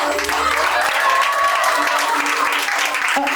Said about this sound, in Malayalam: അശ്വതി നല്ലൊരു കൈയടി തരണം